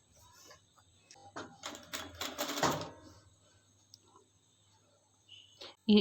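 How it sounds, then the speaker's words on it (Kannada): A sewing machine runs in short bursts of rapid mechanical clatter, stitching along the side seam of a frock, then falls quiet with a few faint clicks. "ಇನ್ನು ನಾವು ಇದರ ಸೈಡಿಗೆ ಹೀಗೆ ಸ್ಟಿಚ್ ಮಾಡ್ತಾ ಬರುವ"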